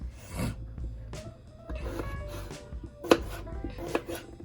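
A knife chops potatoes on a board at close range in irregular strokes, with scraping and a few sharper knocks. Nobody speaks.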